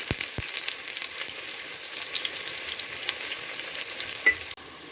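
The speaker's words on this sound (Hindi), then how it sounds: "हमने एक पतीले में तेल डालकर अच्छे से गर्म कर लिया है और उसमें कटी हुई प्याज को डालकर उसे ब्राउन कर" Chopped onions fry in hot oil in a pot for masala veg pulao, a steady close sizzle with fine crackling and a few sharp stirring clicks at the start and near the end.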